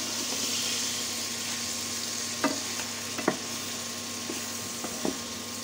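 Rohu fish curry frying in a pan as cauliflower pieces go in, a steady close sizzle with a few sharp clatters of the spatula against the pan.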